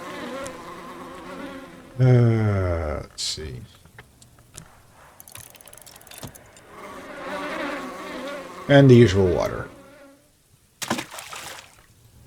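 Bees buzzing around a beehive in the video game Book of Hours, a steady insect drone with louder swells, running beneath someone talking.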